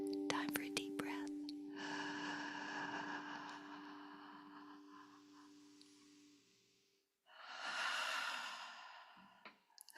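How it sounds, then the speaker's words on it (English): A long, slow deep breath drawn in and let out during a calm moment, soft breathy hiss rising and fading, followed by a second audible exhale after a short pause, close and quiet. "Time for a deep breath."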